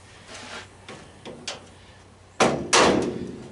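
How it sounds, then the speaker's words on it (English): Hammer and chisel strikes while scrapping out a furnace for copper and aluminum: a few light taps, then two loud, sharp metallic impacts near the end, close and with no talk over them. "when all else fails, hammer and chisel time, right?"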